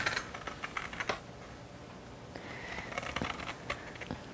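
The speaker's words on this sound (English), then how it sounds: "take this tool, which is called a zester, or a grater, and just take the very fine peel off the outside of the orange." Orange peel being zested with a handheld zester: quick, close scraping rasps come in irregular bursts with soft pauses between strokes.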